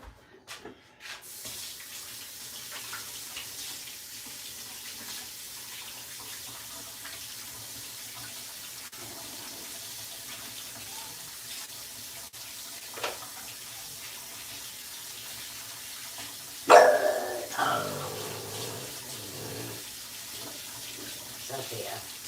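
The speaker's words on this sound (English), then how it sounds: "Let me wash my hands and I'll be right back." Water runs from a tap for hand washing, a short splashing burst late in an otherwise quiet, low-level room hiss.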